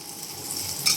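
Garam masala and coriander powder sizzle as they are stirred and fried in a pan, a steady close hiss with a brief brighter scrape near the end.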